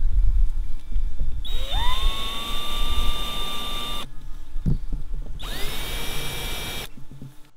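A power drill bores holes in a boat with hex-shank bits while rod holders are installed, two loud sustained high whining bursts of several seconds each separated by a short pause, no talking.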